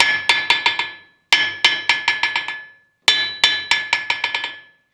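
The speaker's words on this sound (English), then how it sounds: "doing the same hammer test after this is all cooled down" Hammer strikes ringing on a repaired anvil in a blacksmith's shop, in three bursts of about four or five sharp, bright metallic blows each, loud and close with ringing decay and short pauses between groups.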